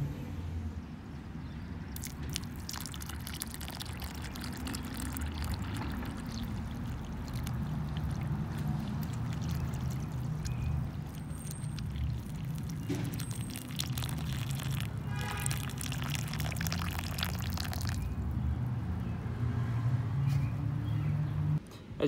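Water poured into a stream table model of a river channel, a steady broadband splashing and trickling that runs continuously and fairly loud for the whole stretch, with no talk over it.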